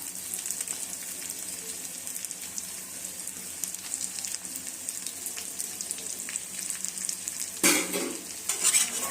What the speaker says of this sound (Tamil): பூண்டை சேர்த்து நல்லா கிளறி விட்டுக்கலாம். நல்லா வதக்கிக்கலாம்.